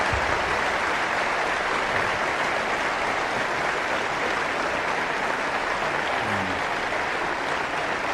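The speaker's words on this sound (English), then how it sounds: "give him a rousing hand of applause for a job well done" Shareholder meeting audience at the Berkshire Hathaway annual gathering breaks into sustained applause, a dense, steady wash of clapping from a large crowd that holds at an even level throughout without talk.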